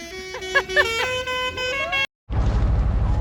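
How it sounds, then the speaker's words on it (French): Several loud tractor horns honk in a series of short toots and one sustained blare at an agricultural fair, followed by a burst of rumbling engine noise. "C'est à celui qui a le plus gros klaxon en fait."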